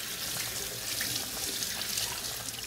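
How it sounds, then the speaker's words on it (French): Pork belly rinsed under a running kitchen tap, a steady close rush of water splashing into the sink without pause. "Donc là, je vais la passer sous l'eau."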